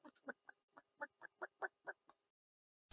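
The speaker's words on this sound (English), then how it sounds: "you hear a soft clucking coming from behind a small mound of gold" Soft fowl clucking in a quick series of about a dozen short calls over two seconds, close and isolated, then silence.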